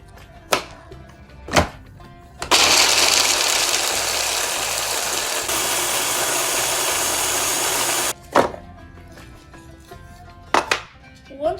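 Dates are blended into a paste in a kitchen food processor, whose motor whirs loudly and steadily for about six seconds. Sharp clunks from handling the machine come just before and after it runs.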